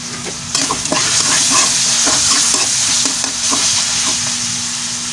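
Meat browning in a pan for pancit bato guisado, a loud steady sizzle with frying crackle and repeated scraping stirs throughout, close up with no talking.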